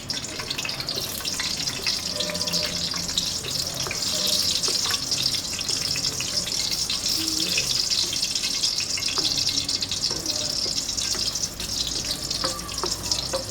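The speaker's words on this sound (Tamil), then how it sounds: "இது கொஞ்சம் நல்லா பொரிய விடணும்." Whole spices, black and green cardamom, cinnamon pieces and cloves, sizzle steadily in hot oil for a restaurant-style palak paneer, a constant broad crackling hiss with scattered small pops, close and continuous with no talking.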